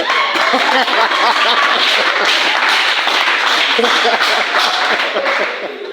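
A church congregation clapping steadily and loudly together to acclaim the Lord, a dense continuous applause that fades slightly at the very end.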